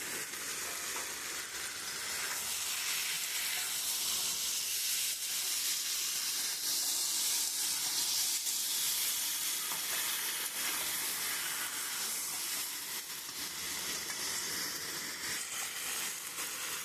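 A fried boiled egg sizzles steadily in spiced masala in a hot pan. The hissing fry is constant and close for the whole stretch, with faint stirring scrapes and no voices.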